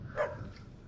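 A dog gives a single short bark near the start, fairly close, followed by a low, quiet background hum with no talking.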